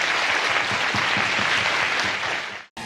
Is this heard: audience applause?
yes